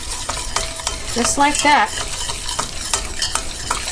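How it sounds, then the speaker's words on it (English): Flour toasts in a hot pan for creamed beef, crackling and sizzling as a spoon scrapes and stirs it in quick strokes; a voice speaks briefly over the cooking. "Let it saute for just a minute and get that flour just a little bit toasted."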